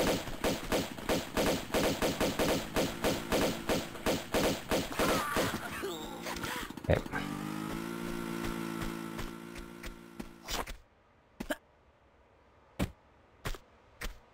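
Rapid bursts of enemy gunfire in Tomb Raider 2 Remastered, a fast regular volley of loud shots that gives way to a sustained mechanical whir, then a few sharp isolated shots ring out over near silence.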